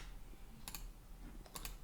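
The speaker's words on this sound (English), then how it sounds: "hit Q on the keyboard" A few single key presses on a computer keyboard, faint, sharp clicks in two close pairs against a quiet background hum.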